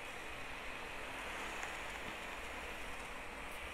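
Rain falls in a Roblox video game as a faint, steady hiss with no distinct drops or voices, continuous throughout.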